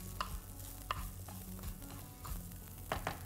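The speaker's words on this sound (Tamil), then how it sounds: "இப்போது திருப்பி ஒரு தடவை வதக்கிக்கலாம்." Fennel seeds and coriander stirred in a pan for black chana curry, a close, steady sizzle with several distinct spoon scrapes and knocks against the pan over a few seconds.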